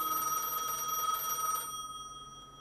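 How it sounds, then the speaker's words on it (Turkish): A telephone rings in the Gas Station Simulator video game: a bright electronic bell trilling steadily for about a second and a half, then cutting off with a fading tail, clear and unaccompanied by speech. "Yine telefon çalıyor."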